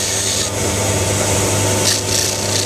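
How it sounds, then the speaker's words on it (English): Hand sanding rasps steadily back and forth across a surface, a continuous close scratching with a few brighter strokes as the paper shifts to new areas. "don't sand in one same area, moving it around, don't never sand in the center."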